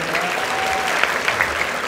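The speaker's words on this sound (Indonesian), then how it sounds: "Kasih tepuk tangan dong buat teman-teman." Applause from a classroom or discussion group for fellow participants, a steady dense wash of clapping that stays even throughout, with no one speaking over it.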